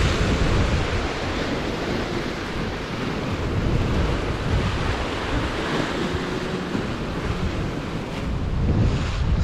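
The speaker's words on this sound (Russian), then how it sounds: "Волнуется море." Sea waves rush steadily against the shore at the Yalta embankment, mixed with heavy wind buffeting the microphone, loud and continuous with no voices.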